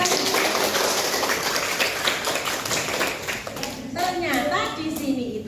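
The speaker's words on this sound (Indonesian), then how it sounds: "Tepuk tangan semuanya." Children clap their hands together in a classroom, a dense burst of close, busy clapping that thins out as a teacher's voice and kids' chatter come through toward the end.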